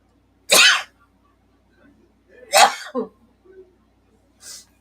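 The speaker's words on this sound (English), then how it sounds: "you not sneeze into my mic?" A person sneezes close into a microphone, two sharp bursts a couple of seconds apart with a brief throaty catch after the second, then a faint short sound trailing off in an otherwise quiet room.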